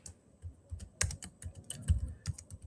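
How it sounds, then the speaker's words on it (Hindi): Typing on a computer keyboard while writing code, a quick irregular patter of soft key clicks heard close up, with no voices over it. "हम अपनी हेल्प के लिए समझने के लिए टाइप करेंगे एपीआई कॉल"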